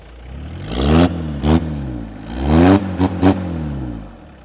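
A vintage Willys Jeep engine with a modified exhaust revs up repeatedly close by, rising and falling in several bursts of two long and three short throttle blips over a steady idle.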